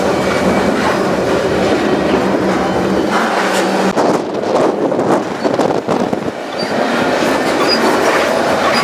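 A freight train climbs a steep railroad pass over the Continental Divide in Wyoming, one of the steepest in the U.S., a loud, close, continuous rumble of wheels and cars with clattering and metallic scraping throughout.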